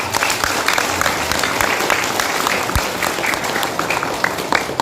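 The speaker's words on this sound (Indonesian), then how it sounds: "Boleh tepuk tangan dulu untuk para KKN yang ada." Steady applause from an audience at an evening religious lecture gathering in a village, loud and continuous throughout with no voices on top.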